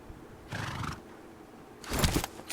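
A horse in the mobile game BGMI neighs twice, a short whinny followed by a longer, louder one, fairly close against quiet game background.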